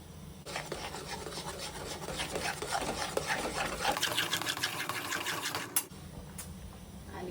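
Soft chhena cooked in a kadhai, a steady scraping and stirring rasp that runs almost without pause at close range, with no talking.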